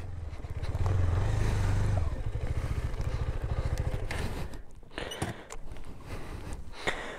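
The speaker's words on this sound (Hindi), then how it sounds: "तो आज हमने ड्यूक में की है डेंजरस ऑफ रोडिंग।" KTM Duke 390 motorcycle ridden off-road over large stones, its engine rumbling loud and close with a rising note, then easing back into scattered clattering and scraping noises.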